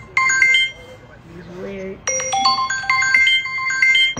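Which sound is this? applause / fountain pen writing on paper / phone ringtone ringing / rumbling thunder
phone ringtone ringing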